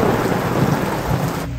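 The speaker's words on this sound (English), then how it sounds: "It is actually raining quite hard now, and we just heard some thunder and lightning." Heavy afternoon rain pours down in Cuenca, Ecuador, a dense, loud, steady hiss, with a low rumble of thunder rolling underneath it.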